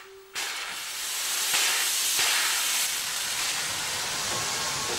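The Rasender Roland, a narrow-gauge steam train on a 750 mm line on Rügen, departs with an abrupt blast of steam that becomes a loud, sustained hiss, with faint mechanical clanks beneath.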